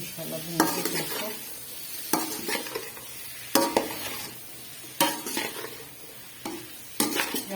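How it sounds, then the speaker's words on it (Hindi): Tomatoes, capsicum and green chillies sizzle in a pan, with a steady fry under regular stirring strokes, about five distinct scrapes of a utensil against the metal spaced a second or so apart, close and clear, no voices. "यहाँ पे टमाटर और शिमला और हरी मिर्च तो थोड़ा सा भूनने"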